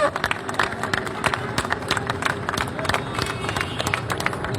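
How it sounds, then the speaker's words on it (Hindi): A crowd of protesting teachers at a sit-in claps steadily and loudly, dense rapid hand claps forming a continuous wash of applause with some babble mixed in. "दिल खोल के तालियां बजाओ यार।"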